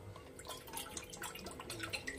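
Water being poured into a cooking pot of vegetable curry, a soft, close trickling and splashing that lasts a couple of seconds.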